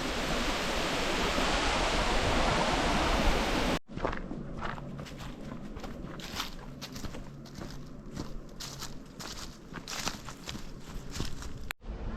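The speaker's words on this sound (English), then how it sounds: "Here's the waterfall." A roaring, steady rush of falling water from a waterfall in Hallstatt, Austria fills the first few seconds, then gives way to quieter outdoor ambience with footsteps.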